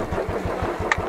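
A motorcycle engine idles in heavy snowfall, a steady low throbbing pulse with a brief higher blip near the end. Close and fairly loud, with no talking.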